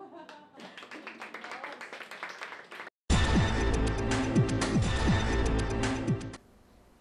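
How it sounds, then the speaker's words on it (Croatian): An audience claps for poets at an evening poetry event at a gymnasium in Koprivnica: scattered taps at first, then after a brief gap a loud, dense burst of applause lasting about three seconds before fading to quiet room tone. "Publika je hrabre pjesnike nagradila pljeskom"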